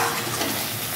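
Spiced boal fish curry sizzles and fries in a pan as it is stirred, a continuous crackling hiss with a faint scrape right at the end.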